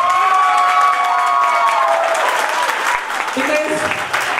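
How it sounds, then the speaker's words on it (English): Audience clapping loudly at a children's rhyme-time school event, a dense continuous roar of hands that holds steady throughout while a voice sounds over it early and a voice is heard near the end. "this particular section definitely needs to get a very, very big round of applause"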